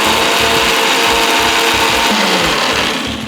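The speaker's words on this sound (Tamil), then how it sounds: "ஐயோ இன்னும் கொஞ்சம் அரைக்கலாம்" Mixer grinder blending ice cream ingredients with fresh cream: a loud, close, gritty mechanical whir with rapid rattling pulses, running continuously and easing slightly toward the end.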